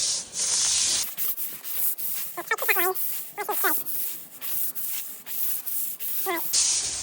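A sandstone patio is scrubbed with bleach; a steady bristly rubbing and scraping rasps in rapid repeated strokes, close and fairly loud, with a few brief squeaky noises partway through.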